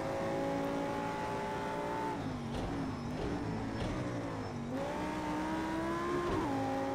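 An Audi R8 road car on the Bathurst circuit in the Project Cars 2 racing game revs hard through the gears, with rising pitch, sharp shift drops and a continuous loud engine note.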